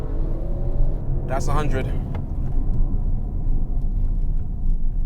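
An Audi RS7 Sportback launches under launch control on a closed road, giving a continuous low engine and road rumble beneath a short spoken remark.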